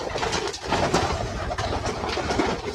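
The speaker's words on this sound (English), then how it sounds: "Are you watching the birds playing with that?" Pigeons or doves coo under a dense wash of steady outdoor noise, the soft calls recurring across the whole stretch with no talking.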